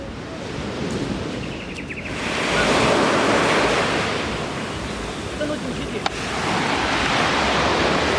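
Ocean waves wash onto a beach in southern Bali in a continuous broad roar, swelling and easing as the surf rolls in, with some wind buffeting the microphone and no talk.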